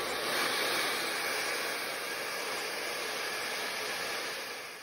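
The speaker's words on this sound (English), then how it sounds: "you're just going to start your hair dryer on a really high heat." A steady, loud whooshing roar of a hair dryer running continuously on a high setting, with a faint whine on top.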